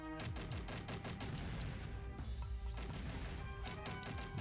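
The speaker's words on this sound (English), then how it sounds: "Don't forget to keep on firing." Rapid repeated gunfire from the player's gun in the game Cheesy, a continuous rattling stream of shots over game music, with a brief lull in the middle.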